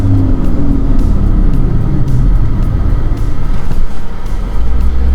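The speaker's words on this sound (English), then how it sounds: "So I'm going up to 60, then hard braking." Interior road noise from a 2017 Chevrolet Cruze LT with drilled and slotted front brakes, a loud continuous low rumble of engine and tires at speed, steady throughout with no clear squeal or stop.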